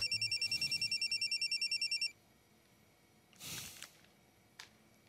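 A telephone rings in rapid repeated electronic trills for about two seconds and then stops, followed by a couple of faint rustling or handling sounds in an otherwise quiet room.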